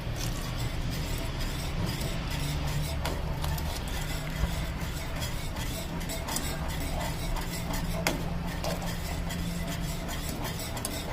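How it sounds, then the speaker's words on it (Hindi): A spoon stirs custard mixture into milk in a pot, giving a steady close run of soft scraping and small clinks against the metal, with no talking. "ये देखिए, हम इसमें डालेंगे और इसको हिलाते जाएंगे।"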